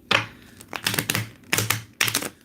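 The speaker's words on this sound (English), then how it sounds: "You can hear it the way it's shuffling too." Tarot reading cards being shuffled by hand, a run of crisp, close riffling bursts, about four quick flurries of papery flutters separated by short pauses.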